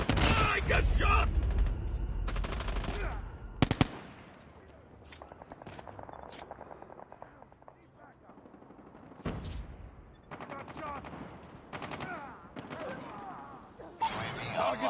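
Rapid bursts of automatic gunfire in a Call of Duty Mobile 10 vs 10 match, loud volleys at the start and end with quieter scattered shots between, under game announcer voices.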